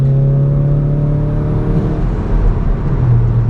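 Stage 2 Golf R engine pulling hard up close, a loud steady drone with climbing harmonics that breaks into a rougher roar partway through, with no voices.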